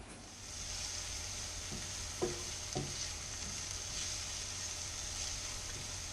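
Onions and garlic soften in a frying pan with an even, quiet sizzle throughout and a few light scrapes or taps from a utensil, no voices.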